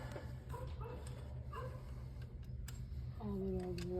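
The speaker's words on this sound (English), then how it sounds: "All the dogs are out by the way." Dogs bark and yip outside, several short, faint calls scattered over steady background noise, with a brief whine-like tone near the end.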